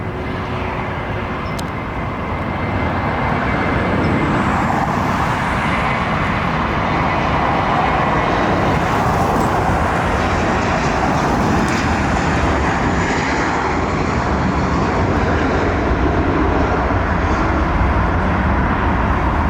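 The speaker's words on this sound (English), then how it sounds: "Beautiful landing." JetBlue airliner landing at an airport, a steady broad roar of engines and air rush that swells slightly early on and then holds loud and continuous, heard from outside with no talking.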